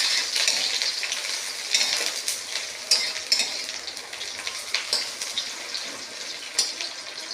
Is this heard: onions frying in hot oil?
yes